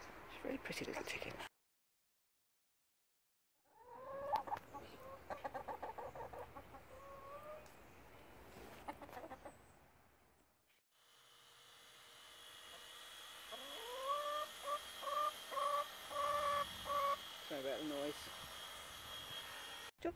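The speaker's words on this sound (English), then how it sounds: "She's a very pretty little chicken." Clucks and soft calls from a rescue hen, coming in bursts of short, bright calls near the mic, with quiet gaps and a person talking between them.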